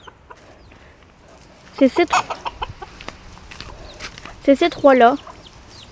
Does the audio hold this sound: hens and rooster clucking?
yes